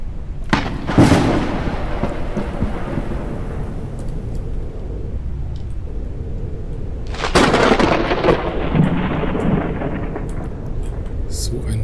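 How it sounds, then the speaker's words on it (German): Thunder rolls through a storm in the survival game Forever Skies, with two heavy booming cracks a few seconds apart over a constant rumbling wash of rain. "Ich warte jetzt mal wieder, bis das Gewitter vorbei ist."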